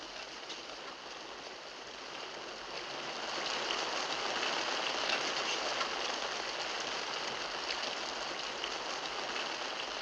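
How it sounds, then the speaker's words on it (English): Steady rain hissing down outside, a dense continuous patter that swells slightly louder midway and holds, with no voices. "It's raining outside."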